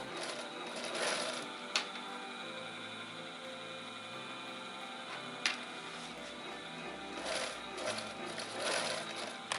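A sewing machine runs slowly, stitching a narrow half-centimetre folded hem on a small piece of fabric with a steady, close mechanical whir and a couple of sharp clacks.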